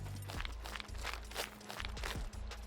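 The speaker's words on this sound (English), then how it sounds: "I heard a footstep." Footsteps of a puppet enemy in the survival video game SCUM, a steady run of thudding steps at close range over a continuous low game hum, with no talking.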